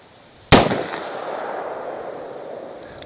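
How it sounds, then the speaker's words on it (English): A lone, loud .357 Magnum Federal Fusion round fired from a short-barrel handgun cracks sharply outdoors, its blast trailing off into a long, fading echo. "let's see what this 357 mag will do. 5 rounds it."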